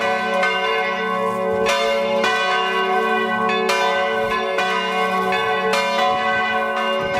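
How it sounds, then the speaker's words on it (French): A full peal of church bells rings out for a wedding, with an old bell cast in 1526 among them. The bells strike repeatedly in steady, overlapping rounds and sound loud and continuous, with no voices. "on entendit la plus belle volée de cloches jamais sonnée pour un mariage"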